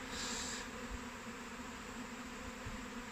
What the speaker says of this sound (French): Alors ça fait un essaim monumental.